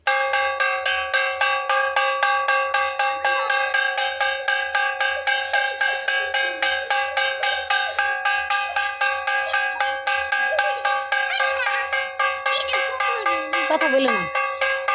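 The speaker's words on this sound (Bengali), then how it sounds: "আর দীপুমনি চাপো, বাজাও।" A quiz game bell rings in a rapid, steady, continuous ringing that stays close and loud for the whole span, with faint voices beneath it toward the end.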